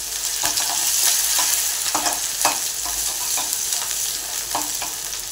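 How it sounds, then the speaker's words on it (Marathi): Ginger and garlic sautéed in a pan for Schezwan fried rice, loud close sizzling with repeated scraping strokes of a spatula stirring at an uneven rhythm, no speech. "आणि अद्रक हे परतून घेऊया."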